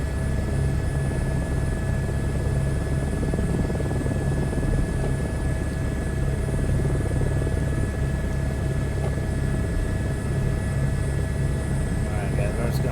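A rescue helicopter in Microsoft Flight Simulator 2024 hovers over a helipad, giving a steady droning rotor and engine hum with a continuous low throb and a high whine running throughout.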